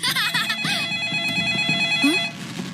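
A telephone rings with a sustained electronic trill, mixed with brief voices and other noises around it.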